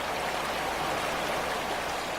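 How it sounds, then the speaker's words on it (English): Oklahoma's Blue River, a spring-fed stream from the Arbuckle-Simpson Aquifer, flows with a dense, even rush of water that stays constant and close throughout. "This is the sound of the Blue River,"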